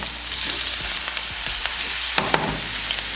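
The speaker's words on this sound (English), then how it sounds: "My potatoes into the grease. It's really hot." Potatoes frying in very hot grease in a pan, a loud, continuous close sizzle with a few sharp pops and crackles near the end and no voices.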